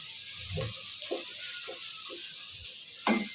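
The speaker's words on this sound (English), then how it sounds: "So I will stir the garlic plus the onions." Garlic and onions sizzle gently in a pan of hot oil while being stirred, with soft scraping stir strokes every half second or so and a louder scrape near the end.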